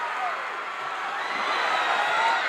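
Wrestling crowd at a 1985 tag-team match cheers wildly in a dense, sustained roar, growing slightly louder toward the end.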